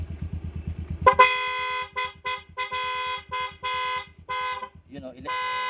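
A motorcycle horn honks in a series of loud, sustained blasts with short gaps, heard up close during a check of an LED headlight conversion, right after the engine idles with a low, steady throb.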